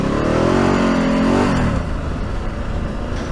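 A 2016 Ducati Multistrada 1200 Enduro motorcycle engine revs up close and loud, its pitch climbing steadily for about a second and a half before it drops back and settles into a rough, throbbing idle.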